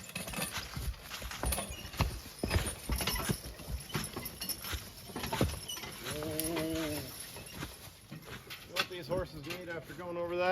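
Heavyweight Belgian draft horses working in the woods clop along with irregular hoof strikes, mixed with close-up snorting or whinny-like calls and people talking nearby.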